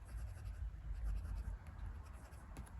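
A fountain pen nib scratches softly across paper with Diamine ink, giving faint, continuous scribbling strokes close to the microphone.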